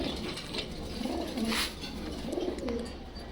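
A pigeon with an eye infection gives a few soft, low coos close by over a faint background hum.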